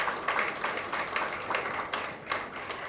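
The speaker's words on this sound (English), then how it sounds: "Clap for yourselves." A public relations and communications conference audience applauds, quiet and somewhat distant, with steady scattered clapping that keeps up throughout.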